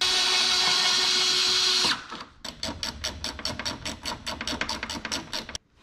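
A power tool drives 5mm Allen screws while a grab handle is fitted on a BMW K1200 motorcycle. A loud whirring burst is followed by a rapid ratcheting run of clicks that stops abruptly.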